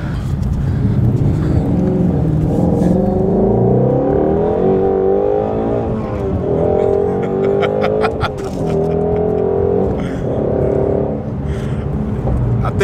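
A Ford Mustang GT350 with a six-speed manual accelerates hard, its engine rising in pitch through the gears with brief dips at each shift, loud and close from inside the cabin.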